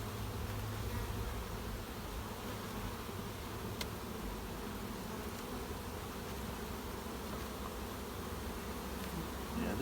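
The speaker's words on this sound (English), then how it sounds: "We still have some bees here." Honey bees in a hive super keep up a dense, steady buzz throughout, close and continuous with a faint click near the middle, and no voices.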